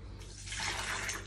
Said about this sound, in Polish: Teraz wodę.